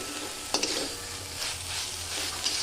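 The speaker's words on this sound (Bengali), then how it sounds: "এবার আমি খুন্তি দিয়ে বেশ কিছুক্ষণ এটাকে এইভাবে নাড়ব" A spatula stirs aubergine and shrimp in a hot pan, with scraping strokes and a couple of sharp clinks over a continuous soft sizzle.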